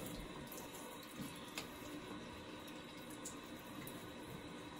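Water running and splashing at a sink as a face is wetted before a shave, a soft, steady flow with faint splashes throughout, fairly quiet and alone.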